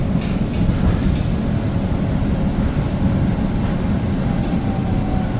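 Riding the airport terminal link tram to Brightline train service in Florida: a loud, steady low rolling rumble fills the cabin throughout, with faint higher squeals and clicks on top.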